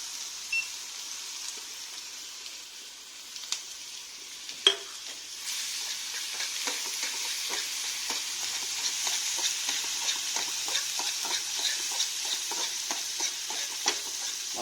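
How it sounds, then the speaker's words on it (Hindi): Onion and tomato fry in butter in a pan, a steady soft sizzle with scattered crackles and an occasional clack of a utensil stirring, heard alone at moderate level. "अब इसको थोड़ा फ्राई होने देते हैं,"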